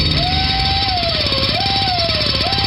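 A loud, steady jackhammer pounds continuously while a whining, drill-like tone rises and falls above it, with no pauses.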